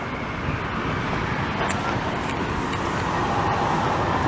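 Busy street traffic in Montreal's Ville-Marie borough at dusk, a steady broadband roar of passing cars and heavier vehicles rolling continuously without a break.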